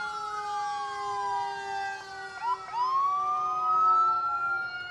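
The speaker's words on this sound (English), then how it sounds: "I'm sure you hear the sirens of our fire trucks." Several fire truck sirens from a parade wail loudly together, their tones sweeping up and down and overlapping as they pass close by.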